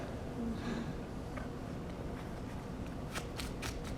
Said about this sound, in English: And I'll give it a shuffle